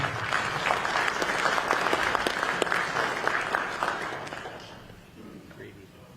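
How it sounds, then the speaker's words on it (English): An audience at a public meeting on traffic and transportation around a new Browns stadium claps together, a dense burst of applause that stays strong for about four seconds and then fades out. "why don't we give a round of applause to NOACA staff"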